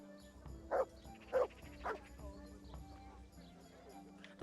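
A dog in a video game gives three short, evenly spaced barks close up, with a faint voice and game sounds underneath.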